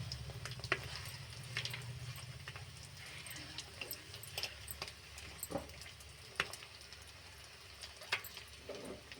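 Eggs fry in a pan, a soft, steady sizzle with faint crackles and ticks scattered throughout, quiet and close with no voices.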